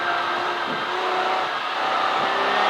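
A V12 race car howling around Silverstone during a CSCC Modern & Future Classics race, a loud, continuous high-pitched engine wail with rising and falling revs through gearchanges, heard close up with no talking.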